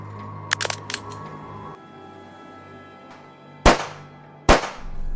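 Cartoon gunshots in a Jamaican animated series: a quick cluster of small sharp cracks, then after a quiet hum two loud, close single shots spaced about a second apart.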